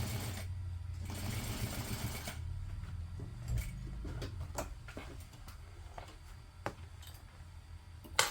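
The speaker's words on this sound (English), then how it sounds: "it can be helpful to hand crank your machine, which can help to prevent needles breaking and such" A sewing machine works through thick layers of a tote bag, slow and faint, probably hand-cranked. It gives steady low mechanical whirring with occasional sharp ticks and clicks.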